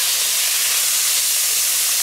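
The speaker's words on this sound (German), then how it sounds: "Also schön portionsweise anbraten und wenn der Dutch-Ofen richtig schön heiß ist, dann geht es auch ruckzuck, wie man hier sieht." Gyros meat seared in batches in a very hot Dutch oven gives off a loud, continuous hissing sizzle with no talking over it.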